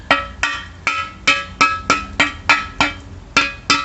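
Close, regular taps on a 1965 Mustang rear valence extension, about a dozen sharp metallic knocks in an even rhythm.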